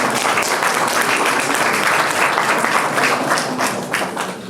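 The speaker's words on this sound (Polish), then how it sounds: "Duże brawo dla odznaczonych." Sustained applause from a crowd honoring award recipients at a regional Medical Rescue Day ceremony in Klebark Wielki, dense steady clapping throughout, fading slightly at the end.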